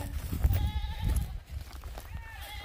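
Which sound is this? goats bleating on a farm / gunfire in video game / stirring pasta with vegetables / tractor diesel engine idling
goats bleating on a farm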